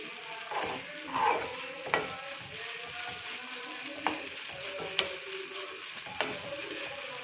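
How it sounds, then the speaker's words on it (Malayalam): Macaroni and chicken masala stirred in a frying pan: steady sizzling with scraping, clacking utensil strokes at irregular intervals, close and moderately loud, no talking. "നമുക്ക് ചിക്കൻ മസാലയും ഇട്ട് കൊടുത്തിട്ട് ഇളക്കാം"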